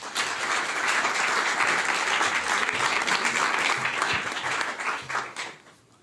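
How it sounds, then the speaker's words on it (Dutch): An audience at a talk about the Rif uprising in Morocco gives a single sustained burst of applause, dense and fairly close, which fades out over the last second. "geef hem een hartelijk applaus"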